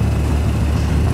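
Motorbike engine sound mixed into the background of a Nepali song, a steady low throbbing rumble that holds loud and constant throughout without speech.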